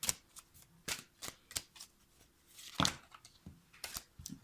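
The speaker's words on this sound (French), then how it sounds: "Alors, tirez une autre carte" Oracle cards are handled and drawn from a deck in a quiet room, a series of short crisp slaps and riffles with brief gaps between them and no talk.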